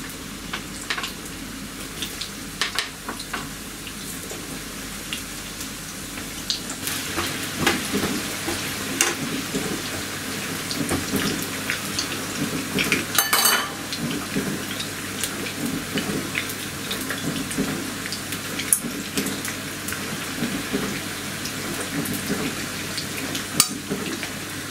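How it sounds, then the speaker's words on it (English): Potatoes frying in a pan for an aubergine and potato dish, a steady close sizzle and crackle of hot oil throughout with occasional sharper pops, no voices. "Now I'm going to fry the potatoes until they are golden brown."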